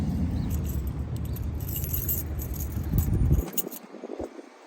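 Keys jangle continuously at close range while being sorted on a 1962 Chevrolet Biscayne 409 four-speed. A low rumble underneath stops abruptly, leaving a few final clinks.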